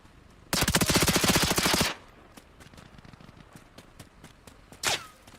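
A rapid burst of automatic gunfire in the video game Arma Reforger, about a second long, followed by scattered single shots and a final sharp blast, crisp and close.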